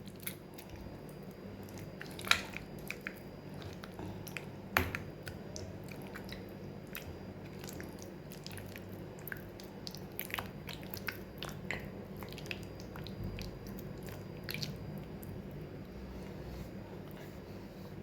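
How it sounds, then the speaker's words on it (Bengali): Ripe mangoes squished and pulped by hand in a bowl for mango sherbet, giving soft, wet squelching and mushy squeezing sounds with occasional sharper smacks, close and fairly quiet throughout. "আমি প্রথমে এই আমগুলোকে খুব ভালো করে একটু চটকিয়ে নেব।"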